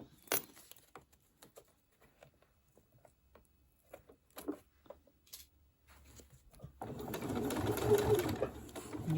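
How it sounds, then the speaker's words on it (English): Someone sews a Lányos Látte wallet on a sewing machine, running a few short stitch bursts separated by quiet handling clicks, then a longer continuous whirring run of stitching close by. "Just go a few stitches at a time."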